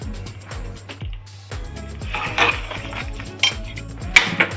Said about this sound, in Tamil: மசாலா ஊற்றி நல்லா மிக்ஸ் பண்ணிக்கலாம்.